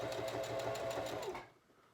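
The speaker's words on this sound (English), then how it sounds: "putting the reverse on your sewing machine" A sewing machine stitches a fabric bookmark in a quick, even run of needle strokes with a motor whine, then stops abruptly near the end and leaves quiet.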